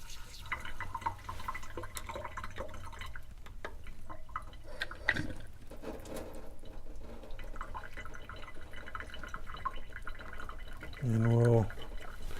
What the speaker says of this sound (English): So we'll just open up these test cocks and let that relief valve drain before we open this up.